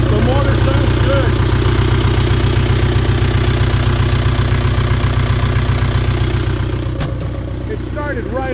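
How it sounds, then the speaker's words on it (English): Diesel engine of a 2005 CAT 416D backhoe loader idling, a steady low rumbling throb close by, easing slightly near the end, with a voice talking briefly over it. "The motor sounds great. Listen."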